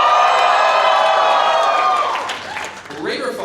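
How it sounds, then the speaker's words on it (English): A big convention audience at an opening ceremony cheering and clapping in a loud sustained roar with whoops and shouts, fading somewhat near the end as a voice begins to speak. "Cheer louder so he can hear you over there."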